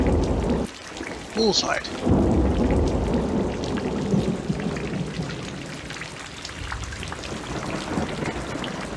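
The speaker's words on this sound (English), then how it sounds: "Can't even see the other side of it with all that rain." Heavy rain pours steadily in the game Corpse Party, with a rumble of thunder early on, a dense continuous downpour that stays close and loud while a voice briefly speaks.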